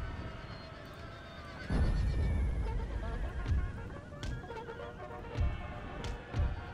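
Cavalry horses whinny and neigh amid galloping hooves in a Napoleonic battle in Napoleon Total War, with several sharp calls standing out over a rumbling battlefield din.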